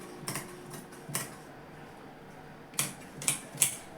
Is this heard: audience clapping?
no